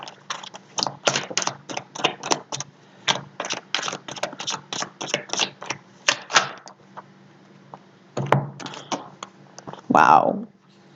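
A tarot deck is shuffled and cards are picked, making quick runs of crisp clicking and riffling taps in bursts, then a pause and a few more flicks before a short spoken remark at the end.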